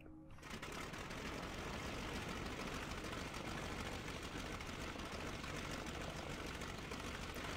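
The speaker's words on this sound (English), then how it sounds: "Right, let's crank this engine." Halberstadt D.II WWI biplane engine cranked and running in Rise of Flight, a brief startup catch then a steady, dense, rattling drone that holds loud and unchanging throughout.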